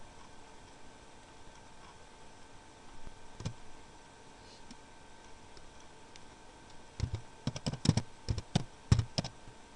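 Typing a new folder name on a computer keyboard: faint, scattered key taps early on, then a quick, sharper burst of clicks near the end over a low hum.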